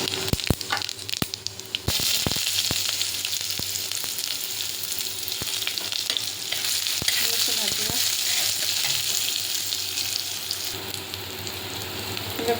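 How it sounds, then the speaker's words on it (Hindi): Cumin seeds fry in hot oil in a pan, a loud, continuous crackling sizzle that fills the whole stretch, broken by sharp pops and clicks of stirring at the start. "तेल गरम कली जीरा पकेवा"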